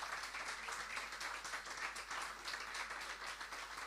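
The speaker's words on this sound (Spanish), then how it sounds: "Pueden darle un fuerte aplauso." A church congregation applauds during a Spanish-language evangelical worship service, a steady dense wash of many hands clapping at moderate, even loudness for the full span, with no voices standing out.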